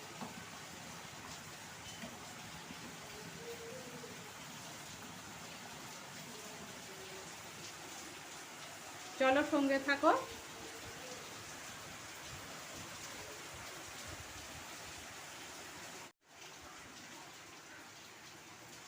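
Steady heavy rain hisses continuously in the background, with a short burst of a tonal sound partway through and a brief voice near the end.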